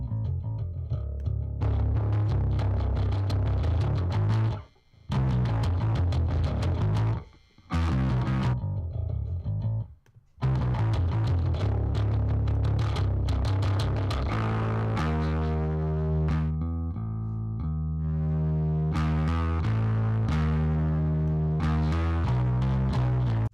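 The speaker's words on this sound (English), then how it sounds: "One side of the signal gets the distortion, the other side remains clean" Bass guitar played with a mix of clean tone and gritty distortion, sustained notes and a riff with brief pauses, then a steadier melodic line near the end.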